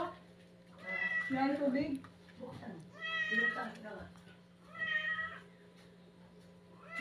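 Several cats meow repeatedly in bursts, some high and drawn out, while a person talks in between over a low steady hum.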